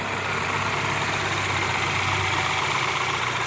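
A BMW X3 engine idles steadily up close, a constant low rumble with a faint mechanical whir and no voices.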